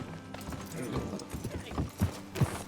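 Horse hooves clip-clop across a Red Dead Redemption 2 game world, an irregular patter of close, moderately loud hoofbeats with two heavier thuds near the end, set against a dull ambient bed.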